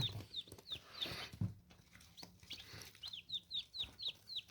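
Chickens and a rooster on a small hatching farm, with repeated short, high-pitched calls and soft clucks in quick bursts, some close and some a little farther off, over a quiet background.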